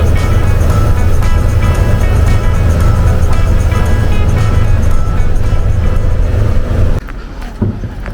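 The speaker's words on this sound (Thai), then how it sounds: "ผม นั่งรถตู้ คันนี้ ไป ครับ" Steady, loud engine and road rumble from inside a hired VIP passenger van traveling in Laos, droning continuously before dropping abruptly to a quieter hum near the end.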